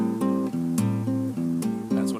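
A guitar loops a short chord pattern: bass string picked, the whole chord hammered on, then two high notes picked, repeating in an even rhythm, clean, close and alone.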